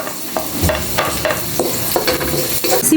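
Garlic sizzling in hot oil in a pan after ginger, a loud continuous crackle with repeated scraping stirs, close up and with no talk.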